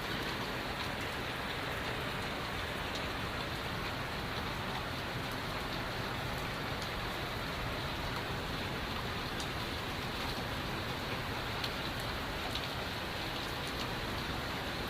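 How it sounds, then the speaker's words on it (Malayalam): Heavy morning rain falls in Oman, a dense, even roar of drops pattering on surfaces that continues unbroken with no other sounds standing out. "അടിപൊളി മഴ കേട്ടോ"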